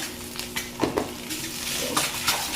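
Coriander powder fried and mixed into a curry in a pan, with close, loud scraping and clanking of a spoon against the metal over a steady sizzle, with no talk.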